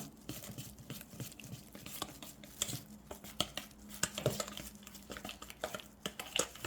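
Eomnamu shoots being tossed by hand with garlic and sesame oil in a bowl, giving a steady run of soft wet clicks, taps and light clinks of dish and utensil, close and moderately quiet with no talk.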